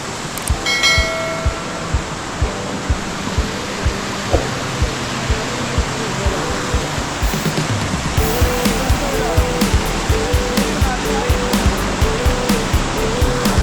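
A river flows near the Kainchi Dham ashram outside Nainital with a steady, close rushing roar. Faint bell-like chimes ring out now and then above the water.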